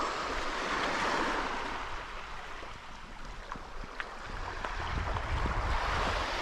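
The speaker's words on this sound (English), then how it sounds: "And this beach is one of the sandy beaches that I was talking about." Steady surf washing onto a sandy beach on Karpathos, Greece, a broad, continuous roar of waves mixed with wind buffeting the microphone, with no talking.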